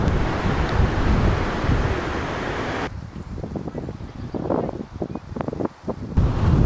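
Strong wind at a campsite roars and buffets the microphone, with gusty low rumbling throughout and a brief lull before the blustering returns.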